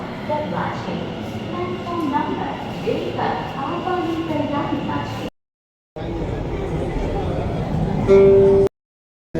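An Ahmedabad metro train rumbles into the station with a rolling mechanical roar under nearby chatter, a short electronic beep sounding near the end.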